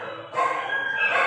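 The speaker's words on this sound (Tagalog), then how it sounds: "Ang ingay ng aso ko." A dog barks loudly and close in a steady, drawn-out yelping call with no voices over it.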